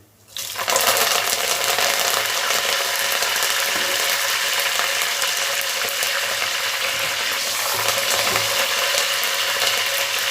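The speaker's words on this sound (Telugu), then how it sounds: "కరివేపాకు, ఎండుమిరపకాయలు, జీలకర్ర వేసానండి తాలింపులో. బాగా చిట్టపట పడుతున్నాయి." Curry leaves, dry red chillies and cumin crackle steadily in hot tempering oil for a lentil-and-greens dal, a dense, continuous spitting sizzle close by that starts abruptly and holds at a constant loudness, with no voices.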